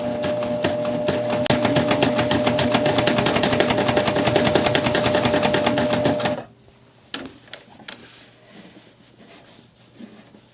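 A Baby Lock Triumph serger stitches through cork for a basket in a steady, fast mechanical chatter for about six seconds, then stops, leaving a few faint clicks and handling sounds.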